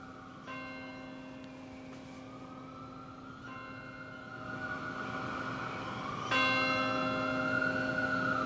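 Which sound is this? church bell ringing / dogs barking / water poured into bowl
church bell ringing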